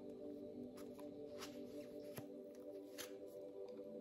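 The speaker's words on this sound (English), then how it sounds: "I'm going to shuffle the cards." Tarot cards being shuffled by hand give faint, quiet riffles and soft snapping flicks in short bursts over a low steady hum, with no talking.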